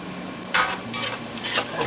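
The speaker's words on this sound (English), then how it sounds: "Keep stirring it for a while." Chopped onion, ginger and sliced garlic sizzle in a pan for bhuna chicken, with short bursts of spoon stirring and scraping over a continuous frying hiss.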